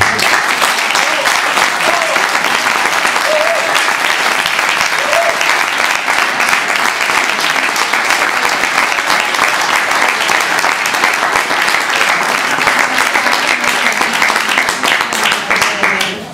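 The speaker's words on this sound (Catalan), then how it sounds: "el que faríem ara és un fort aplaudiment pel Marc." A large audience gives a loud, sustained round of applause after a pork-cooking demonstration at a Catalan food event, dense and unbroken for over fifteen seconds with no voices standing out.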